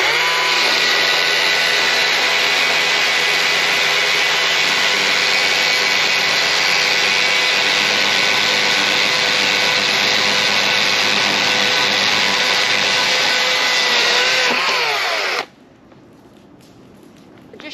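A battery-powered Husqvarna chainsaw cuts through a log, its loud, steady whine holding for about fifteen seconds before cutting off abruptly into near quiet.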